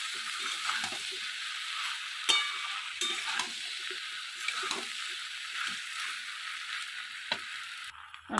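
Chili soya is stirred with tomato sauce in a frying pan, a continuous close sizzle broken by the repeated scrape and knock of the spoon against the pan, with no one talking.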